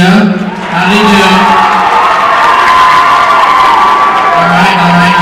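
A convention crowd cheers a contestant with loud shouts, whoops and clapping that quickly rise to a sustained, energetic roar, and one voice rises above the noise.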